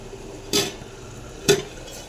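A metal lid set onto a cooking pot of simmering tomato-and-onion fish curry gives two brief, sharp clinks about a second apart over a quiet background.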